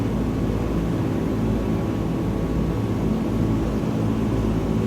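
Steady droning engine of a de Havilland Caribou twin-engine plane in Microsoft Flight Simulator 2020, a constant loud rumble with a broad hiss that holds evenly throughout, with no talk.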